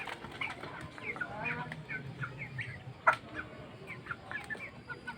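Rhode Island chickens cluck and murmur softly at a moderate distance, with scattered short calls and one sharper squawk over a low farmyard background.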